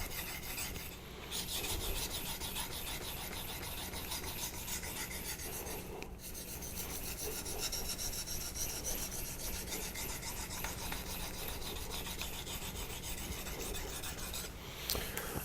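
A convex knife is ground on a Naniwa diamond whetstone, a steady, close rasping scrape with slight pauses between strokes, no voices.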